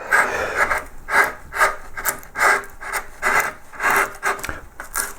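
A hand tool rubs and rasps across the surface of a pierced wood relief carving of a yellow flag iris, a steady rhythm of about a dozen scraping strokes, close and moderately loud with no talk.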